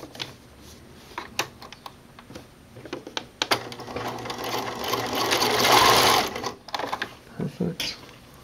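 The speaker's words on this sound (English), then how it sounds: "we will baste the two edges together." A sewing machine bastes two fabric edges of a Y-back racer tank top together, heard as quick clattering stitch bursts that build into a sustained, louder run before stopping, with a few clicks afterward; a voice speaks nearby.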